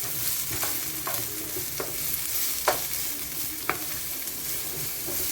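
Cooked callaloo and seasoning sautéing in a pan, a steady close sizzle broken by several sharp spatula scrapes and taps at irregular intervals.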